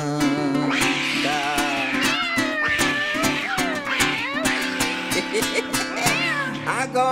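A voice imitates a cat with a run of loud, wavering meows over steady musical accompaniment in a Portuguese-language children's song about animals.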